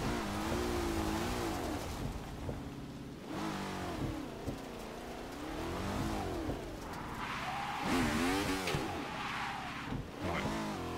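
Lotus 67 race car in a racing game on wet Brands Hatch, its engine revving and rising and falling in pitch through repeated accelerations and gear changes, loud and continuous throughout with no talking.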